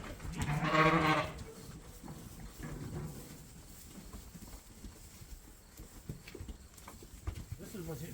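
A sheep on a farm gives one loud, close bleat near the start. Quieter shuffling, hoof-like knocks and faint voices from the farmyard follow.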